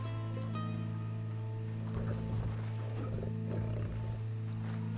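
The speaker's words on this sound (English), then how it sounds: "That is a lion." A lion in the Red Dead Redemption 2 game gives a deep, sustained roar that rumbles continuously and loudly, backed by a steady low drone, with no talking.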